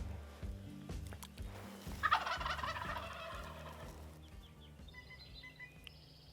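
A wild turkey gobbler in Nebraska lets out a loud rattling gobble close by, followed by softer fowl calls and scattered bird chirps in the open outdoors.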